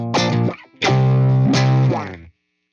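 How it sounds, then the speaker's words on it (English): Enigma filter effect at default settings on a Fender Tone Master Pro, applied to electric guitar: three loud, distorted sustained chords, each with a sweeping, vowel-like filter movement, ending abruptly in silence. "Here's the Enigma filter at default settings."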